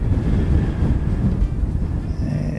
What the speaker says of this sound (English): You might have noticed that was quite breezy.